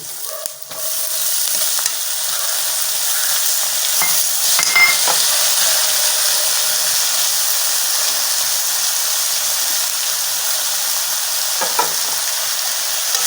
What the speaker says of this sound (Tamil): வெங்காயம் கொஞ்சம் வதங்கிட்டு அது கூட நம்ம வெட்டி வச்சுருக்கிற